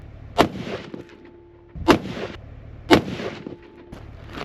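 Three sharp rifle gunshots crack out while the rifle is sighted in at a range, evenly spaced about a second and a half apart, loud and close with short ringing tails.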